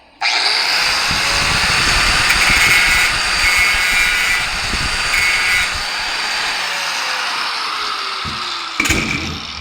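Angle grinder grinding metal during a battery modification, a loud close high-pitched whine holding steady for several seconds with slight load changes, then dropping off with a brief clatter near the end.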